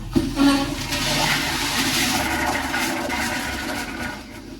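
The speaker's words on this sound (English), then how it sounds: "We will take a couple of flushes" Toilet flushing at a property being winterized, a loud close rush of water that surges at the start then settles into a steady gurgling swirl before easing off.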